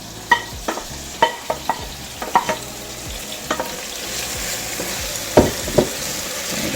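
Saltfish sizzles in a pan for Jamaican ackee and saltfish, with a steady frying hiss under a series of sharp scraping, clattering stirs from a utensil, close and fairly loud.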